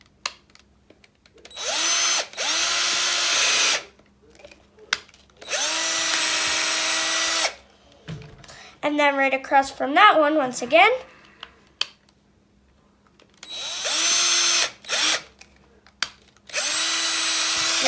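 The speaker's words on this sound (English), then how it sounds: "you want to drill another hole" A power drill bores holes in RC car tires to let trapped water out, coming in about five loud, whining bursts of a few seconds each, with someone talking during a pause in the middle.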